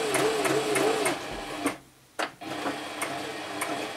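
Toyota Oekaki sewing machine stitching at a steady, rapid mechanical rhythm, briefly stopping for about half a second before restarting; loud and close with no talking.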